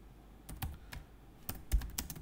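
Typing on a computer keyboard while composing a Gmail email, a few separate keystrokes and short clicks spread irregularly across a quiet room, close and soft.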